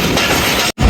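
The 38 Down Baba Fareed Express rolls into Bahawalpur station at night, a loud, close rumble of wheels and carriages running steadily, briefly cut off and then resuming.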